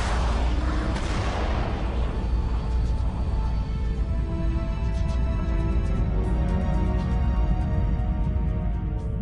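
Cinematic explosion effect standing in for a gamma-ray burst in space: a sharp loud blast that swells into a long, dense, roaring rumble sustained for several seconds.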